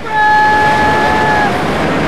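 A Genesis Express ride sound effect: a loud steady train rumble with a brief two-tone horn-like whistle sounding over the opening second, then the rolling noise carrying on alone.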